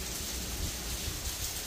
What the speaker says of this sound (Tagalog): ang lakas nga pala ng ulan ngayon sa labas.